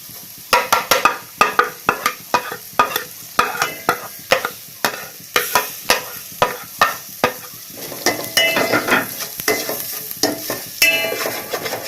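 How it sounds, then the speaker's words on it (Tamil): Masala sautéing in a pan for bread egg masala sizzles close and loud, broken by a quick series of sharp scraping stirs in an uneven rhythm, with no voices. "அடுத்து எடுத்து வச்சிருக்க மசாலாவை போட்டு வதக்கலாம்."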